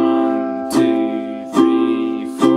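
Ukulele chords strummed for a song, three sharp strums spaced under a second apart, each ringing on clearly with no voice over them.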